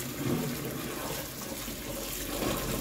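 Water pours into a pot as a steady, soft rushing splash, continuous and fairly faint, with no talking.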